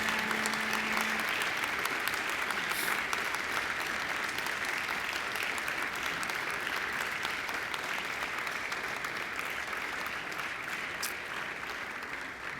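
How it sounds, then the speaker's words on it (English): Graduation ceremony audience applauding families and friends in a hall, a steady, dense wash of clapping from a large crowd that holds at an even level throughout with no break. "give them a mighty round of applause"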